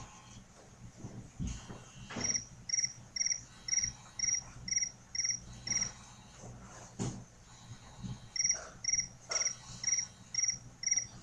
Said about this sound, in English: You hear nothing but a bunch of crickets.